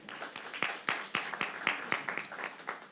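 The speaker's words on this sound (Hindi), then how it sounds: "जोरदार तालियों से इनका स्वागत" Audience at a multilingual poetry reading session in Bhopal claps to welcome the session chairperson, with scattered, fairly sharp claps that land in a loose, steady rhythm and sound moderately near.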